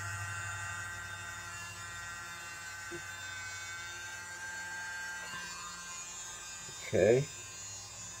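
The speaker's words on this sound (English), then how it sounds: "I'm going to blow this out with my little world's smallest blower here." A tiny handheld blower pushes poured acrylic paint across a fluid-art canvas, giving a thin, steady electric whir close by throughout, with a brief word spoken near the end.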